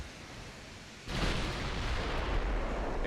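A battlecruiser's main guns firing in Ultimate Admiral Dreadnoughts, a sudden deep booming salvo breaking over quieter sea ambience and rolling on as a sustained heavy rumble.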